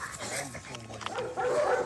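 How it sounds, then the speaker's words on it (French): Malinois dogs at a military kennel barking and yipping in a busy, reverberant space, with a person talking over the barking throughout. "Au chenil, salutations d'usage. Une quarantaine de malinois principalement"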